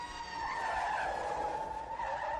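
A patrol police van skids to a stop, its tires squealing in a sustained, fairly loud screech over engine noise, with no speech.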